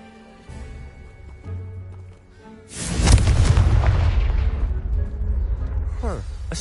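Confringo spell explosion in the video game Hogwarts Legacy: after a quiet stretch, a single loud, booming blast erupts and rumbles on for several seconds before slowly fading.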